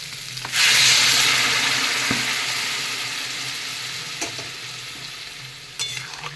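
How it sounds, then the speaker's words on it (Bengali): Hot water poured into potato and cauliflower masala frying in a pan for a small-carp fish curry, bursting into a loud hissing sizzle that slowly fades, with a few faint clinks near the end. "আলু ফুলকপির সঙ্গে মশলাটা খুব ভালো করে কষিয়ে নিয়েছি আর এখন দিয়ে দেবো গরম জল"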